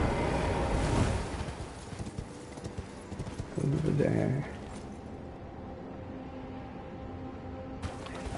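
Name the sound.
horse Torrent galloping in Elden Ring video game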